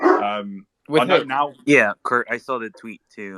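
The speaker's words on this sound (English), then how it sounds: "that's the dog going for the door" A household dog barks and yips while heading for the door, its sounds mixed in with close, continuous conversation.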